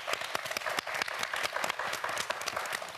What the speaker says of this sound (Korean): 다시 한번 우리 문성민 학생에게 축하의 박수를 보내주세요.